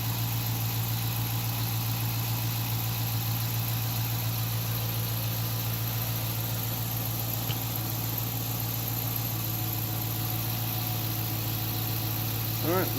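A 2014 Dodge Charger, set up with a 100 HP nitrous kit, idles steadily with a low, constant rumble throughout and no change in pace.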